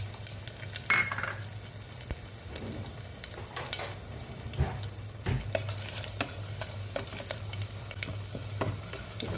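Cumin, cinnamon, cloves and cardamom sizzle in hot ghee for ghee rice, a steady soft crackle with a low hum beneath and a few clinks and stirring scrapes, no voices.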